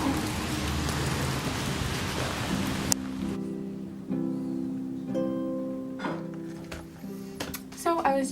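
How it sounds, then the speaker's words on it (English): Steady rain falls on an autumn day, a dense hiss that fills the first three seconds, then drops to a softer patter with scattered drips as a voice talks over it. "I just love the rain and the clouds so much."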